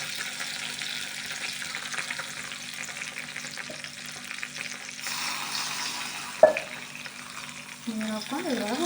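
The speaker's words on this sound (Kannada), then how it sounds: "ಇದ್ರ ಮ್ಯಾಲಿಟ್ಟ ಇದನ್ನು ಒಗ್ಗರಣೆ ಹಾಕ್ಕೊಂಡ್ರಿ." Spices tempering in hot oil in a pan, a continuous moderate sizzle and crackle with stirring noises, a sharp clank near the end and brief louder spitting afterward.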